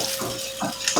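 Zucchini cakes fry in hot oil with a steady close sizzle, broken by a few light scraping and clinking kitchen sounds.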